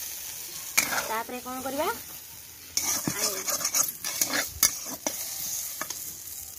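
Okra frying in a hot wok over a village cooking fire, a steady close sizzle with stirring scrapes and a few sharp clinks, while a person speaks briefly partway through.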